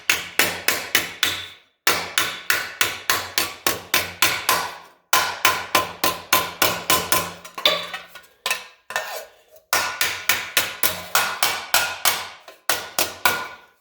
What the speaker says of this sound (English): I'm just going to hammer two of them together. Get a nice tight fit.